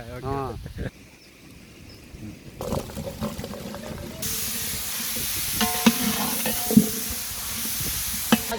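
Drumstick pieces and finely sliced onion sautéing in hot oil in a pan, a steady close sizzle with a few clinks of a spoon, after people talk at the start.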